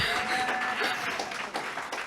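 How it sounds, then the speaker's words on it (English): An audience at a journalist's talk applauds steadily and loudly throughout, a dense wash of clapping with a few voices mixed in. "we should applaud that"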